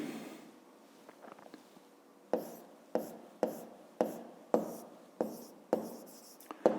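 A pen writes on paper during a math lesson: faint scratching at first, then a regular series of crisp strokes, roughly one every half second, close and quiet with no talk.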